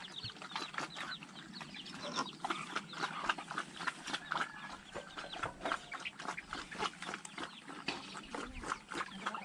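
Chickens and other farm animals in coops and pens on a rural farm, with pigs kept nearby, make dense overlapping clucks and calls at a steady busy level throughout, with no talking.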